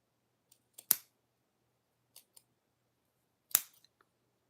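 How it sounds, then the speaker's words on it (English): Big scissors cut fursuit material in a few sharp, separate snips with quiet gaps between them, close by and with no talk. "So the bigger scissors will have to do."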